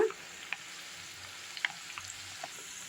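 Onion pakoda batter frying in hot oil, a soft, steady sizzle with a few small pops and crackles scattered through it, heard alone and fairly faint.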